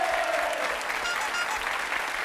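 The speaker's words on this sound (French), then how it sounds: "nous pouvons acclamons Nadia" Studio audience on a French television game show applauds steadily and loudly, a dense even wash of clapping with no talk over it.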